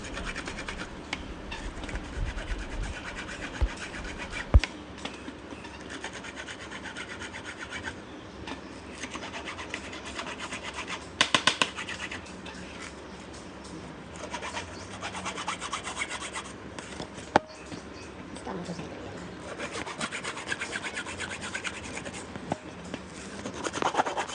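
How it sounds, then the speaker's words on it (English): Steady rasping and rubbing of a hand file removing burrs from drilled holes in garden sprinkler pipe, continuous strokes with a few sharp clicks, close and moderately loud, no talking. "we are just using the file to remove any burrs"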